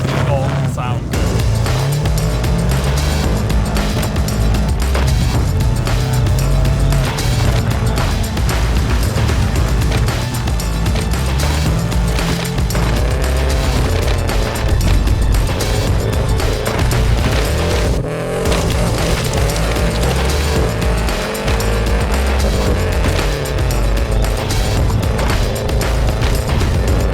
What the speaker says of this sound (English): we've tied it to the back of a rally car